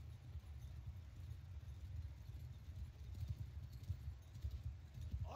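Horse hooves in the video game Mount & Blade II: Bannerlord, a steady low rumble of galloping hoofbeats during a battle, continuous and moderately loud with no talk.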